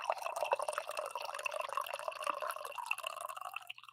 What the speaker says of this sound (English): I think we deserve a hearty coffee pour here.